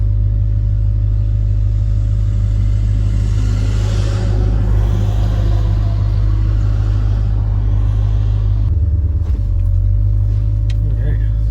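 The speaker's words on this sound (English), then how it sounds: "leave the driveway for the first test drive because there's a convoy." A 1967 Lincoln Continental convertible on Ridetech airbag suspension rolls out on its first test drive, its engine a loud, steady low rumble throughout, with road and wind noise and a shift in tone near the end.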